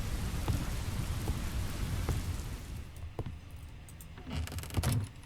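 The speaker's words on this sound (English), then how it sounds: "It's dark now, it's raining." Steady rain pours on a dark house at night in a horror video game, a continuous close hiss with a few sharper knocks and low rumbles toward the end.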